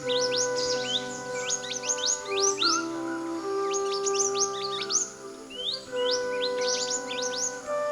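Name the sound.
flock of small birds chirping on the ground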